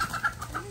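Chickens clucking softly in a farm coop in Oklahoma while being fed, a few short quiet clucks and chirps close by with no talking.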